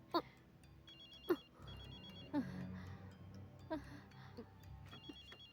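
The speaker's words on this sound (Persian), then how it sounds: "زنگ رخ میکنه اما نمیفهمم کجاست" A telephone rings in a drama scene with short repeated electronic ring bursts, soft and somewhat distant, while people talk quietly underneath.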